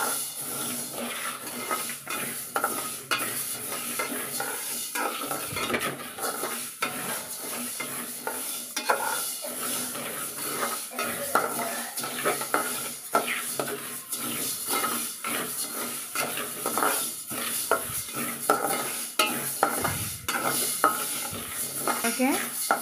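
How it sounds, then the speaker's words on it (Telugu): Mustard seeds frying over low heat in a pan for mango pickle, crackling and sizzling continuously up close with irregular spoon scrapes and pan clinks throughout, no voices. "ఆవాలు బాగా వేగాయి"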